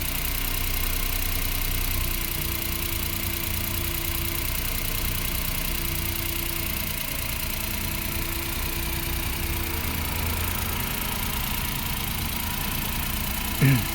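Engine of a Mazda Scrum DA63T kei truck idling steadily at close range, a low continuous hum whose revs ease down slightly, with a brief louder bump at the very end.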